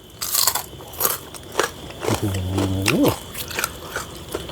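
Crunchy pork cracklings are bitten and chewed close up in a kitchen during cooking of a northern Thai banana blossom curry, with repeated sharp crunches and a brief hum-like vocal sound in the middle.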